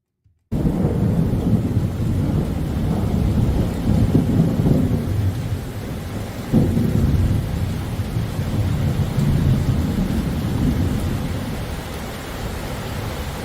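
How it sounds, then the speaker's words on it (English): Nonstop thunder rolls and rumbles through a steady downpour of rain, loud and continuous with swelling peaks, and no voices. "you're going to miss out on the thunder experience because it's nonstop and it's pretty cool"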